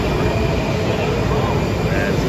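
A subway train rushes by a platform, a loud, dense, unbroken roar filling the short stretch with rushing air, while a voice is faintly present beneath.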